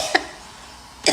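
Two sharp coughs from a person in a home kitchen while cooking, spaced about a second apart, close and fairly loud over a quiet room background.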